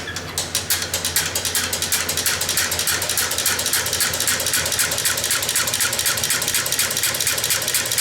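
A rare 1908 Matheson automobile engine with make-and-break ignition is turned over by a rigged electric motor, giving a loud, fast, steady mechanical clatter of rhythmic ticks over a low rumble, alone.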